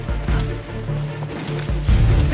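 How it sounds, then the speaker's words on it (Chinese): Zhongzheng (Chiang Kai-shek) rifles fire in a war film battle scene, a dense run of overlapping shots and low booms rolling under a heavy rumbling background, loud with no clear pauses. "听枪声是中正式，应该是自己"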